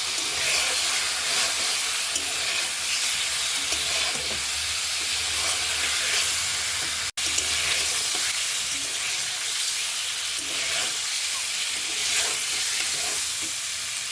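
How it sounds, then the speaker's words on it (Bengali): Duck eggs frying in a pan, a dense, even hiss of hot oil holding steady throughout, with one brief dropout midway. "এবার আমি এই যে ডিমগুলো দিয়ে দিচ্ছি ভেজে নেব"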